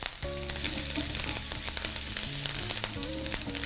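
Onions sizzling in hot oil in a pan for savory kara paniyaram, a steady close frying crackle with stirring noises; no speech.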